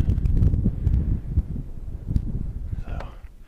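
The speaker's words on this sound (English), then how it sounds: "A little windy. Hopefully the windbreak for the mic is working." Outdoor wind buffets a microphone fitted with a furry windscreen in a remote area, a steady low rumbling roar that swells and fades in gusts throughout.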